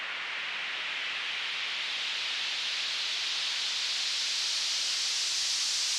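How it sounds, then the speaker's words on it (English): A white noise sweep in an electronic music track, a smooth continuous hiss that slowly brightens and swells in level over several seconds, alone with nothing else playing. "I'm also like fading it out with the volume automation, and then another like white noise sweep."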